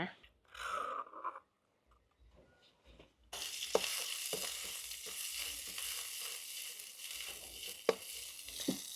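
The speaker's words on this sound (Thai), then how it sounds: "เมื่อเราโขลกสามเกลือละเอียดแล้ว เราจะนำลงผัดในน้ำมันนะคะ" Pounded garlic, coriander root and pepper paste stir-fried in oil for old-style Thai palo, with a soft clatter before the food hits the pan and a sudden steady sizzle follows, broken by occasional spatula knocks; someone talks briefly at the start.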